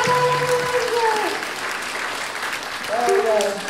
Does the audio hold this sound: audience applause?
yes